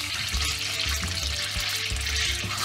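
Honey and butter sizzle steadily in a pan over turned-down heat, a close, continuous hiss with small crackles and no talk.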